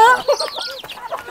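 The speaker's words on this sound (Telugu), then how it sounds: "ఆ కోడి పట్టుకో, పెద్దది పట్టుకో." Short clucks and calls from a chicken in an Indian hill tribal village come across close and fairly loud in a brief, broken sequence.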